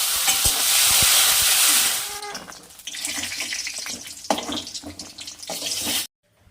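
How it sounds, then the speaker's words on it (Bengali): Cashews and raisins fry lightly in hot oil in a kadai, a loud bright sizzle at first that drops to a softer crackle with occasional stirring clinks before cutting off. "এবার কাজু আর কিশমিশটা হালকা ভেজে নেব।"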